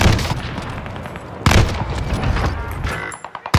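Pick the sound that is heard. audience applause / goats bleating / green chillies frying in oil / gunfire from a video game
gunfire from a video game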